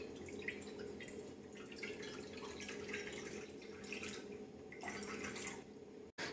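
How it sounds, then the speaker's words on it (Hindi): About two cups of water going into a pot to start a homemade herbal shampoo, a soft continuous pouring and trickling at close range, fairly quiet, with no one talking. "मैं अराउंड 2 कप पानी ऐड करूँगी।"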